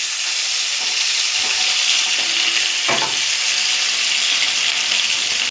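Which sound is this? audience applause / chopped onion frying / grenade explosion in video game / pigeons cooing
chopped onion frying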